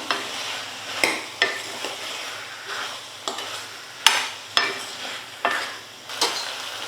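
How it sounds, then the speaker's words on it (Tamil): Cubes of elephant foot yam sauté in hot oil in a pan, a soft steady sizzle broken by about ten sharp scrapes and clanks of a stirring spoon, recorded close with no talking. "ஒரு நிமிஷம் இந்த எண்ணெயில் சேனக்கிழங்கு நல்லா வதக்கிக்கலாம்."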